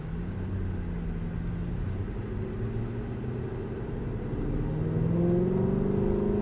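An Aston Martin V8 Vantage on a race track, heard from inside the car as a steady low engine drone that swells a little as the car throttles out of a corner, with no talk.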